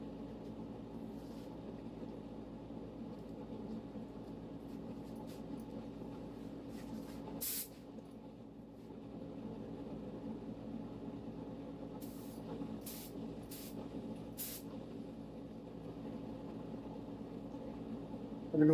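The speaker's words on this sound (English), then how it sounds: "If we can spray this more heavily, the headstock, we're going to take it easy." A spray gun lays a light dusting of finish onto the headstock of a refretted fretless G&L guitar neck, giving short sharp hissing bursts over a steady low background hum.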